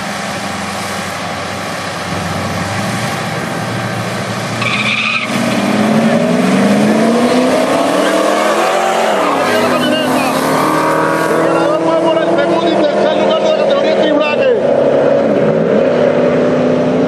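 A pickup truck and other street bracket race vehicles launch and scream down a drag strip, engines rising in pitch and swelling louder as they speed past, with an announcer calling the run in Spanish.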